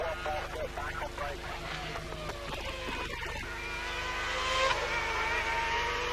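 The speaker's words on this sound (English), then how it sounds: "On board now with Jarno Trulli in the Renault" A 2002 Renault Formula One car engine drones and revs at high pitch, heard close on board during practice at the San Marino Grand Prix, with a commentator talking over it throughout.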